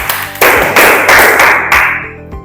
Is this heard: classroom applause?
yes